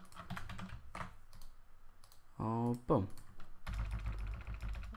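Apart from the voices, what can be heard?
typing on a computer keyboard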